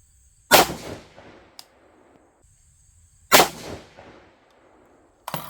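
An AR15 rifle chambered in 6.5 Grendel fires two sharp, loud shots about three seconds apart, and each blast is followed by a short fading echo.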